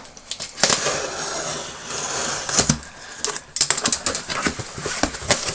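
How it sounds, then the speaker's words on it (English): Sellotape being cut open on a cardboard parcel box holding a vintage toy donation, with scratchy slicing and tearing strokes, crinkly tape rips and scattered close rustles throughout. "let's cut open the sellotape"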